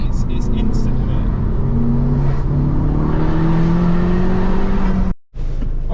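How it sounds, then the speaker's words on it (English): A Honda Civic Type R FK2's turbocharged engine accelerates from inside the car with the window down, a steady rising drone and intake whoosh climbing in pitch, loud and continuous, with people talking over it, then a brief cut near the end. "pull the window down so you can hear a tiny bit more of the intake"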